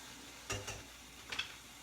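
Onions sizzle softly in a pan, a faint steady hiss broken by a few quick stirring scrapes and clinks.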